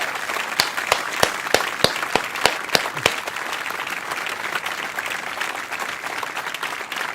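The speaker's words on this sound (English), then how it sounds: "Give a round of applause to the games that we're going to be playing" Applause from a crowd: sharp individual claps stand out early over a steady wash of clapping that continues throughout at a fairly even loudness.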